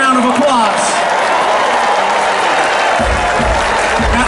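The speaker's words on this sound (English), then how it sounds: "So give yourselves a big round of applause." Concert audience applauds and cheers at an outdoor funk and jazz show, a dense, steady wash of clapping and crowd noise with voices mixed in throughout.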